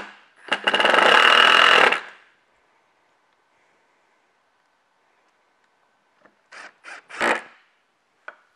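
A power drill drives screws into a wooden board, first as one loud sustained whir lasting over a second, then after a quiet gap as a few short bursts close by, with no talking.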